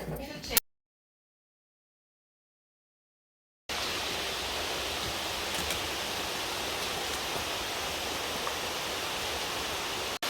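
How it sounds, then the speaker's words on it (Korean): After a short silence, a steady broadband roar of a mountain waterfall on Sorisan in Yangpyeong, South Korea, fills the scene, constant and fairly loud. "와 저기 폭포가 있네요"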